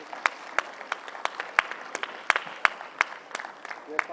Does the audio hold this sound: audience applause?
yes